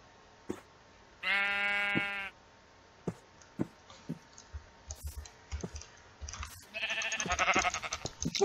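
Two bleats from a sheep in the video game Minecraft, one near the start and one longer near the end, with scattered sharp clicks and taps between them, close and clear.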